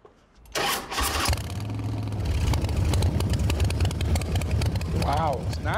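A custom-built motorcycle with fewer than 500 miles fires up after a brief quiet moment, then settles into a loud, steady, throbbing idle close by.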